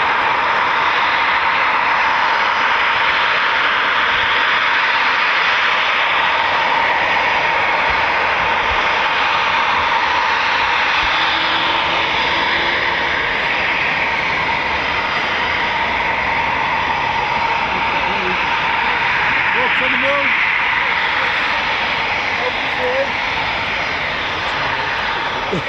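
A Eurofighter Typhoon FGR4 fast jet at RAF Coningsby, a loud continuous engine roar that swells and holds for the whole stretch as it passes, with no talking.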